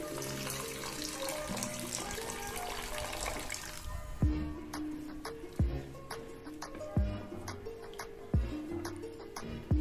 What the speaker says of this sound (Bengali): এবার আমি এর মধ্যে দিয়ে দেব সামান্য পরিমাণে জল।